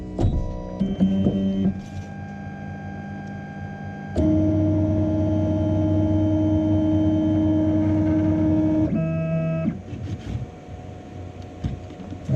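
Flashforge Dreamer 3D printer running its bed-leveling routine: steady stepper-motor whine and hum in distinct pitched segments, shifting tone every few seconds, close and alone with no talk.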